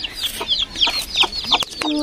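Several small chickens cluck and chirp in quick, repeated bursts, fairly close and moderately loud, with no one talking.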